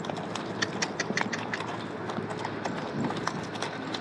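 Horse hooves clip-clopping in a quick, steady rhythm during a ride in the Sahara Desert, close and fairly loud throughout, with no talk over the hoofbeats.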